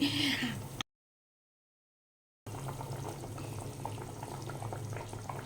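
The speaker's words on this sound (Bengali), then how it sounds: "গ্রেভিটা ভালো করে ফুটে গেছে, এর মধ্যে এবারে আমি ভেজে নেওয়া মাছগুলো দিয়ে দিচ্ছি।" Gravy for a Bengali raw-mango rohu fish curry bubbles at a steady boil as fried rohu pieces go into the pot, with a short burst of sound at the start, a gap of silence, then a continuous close simmering texture.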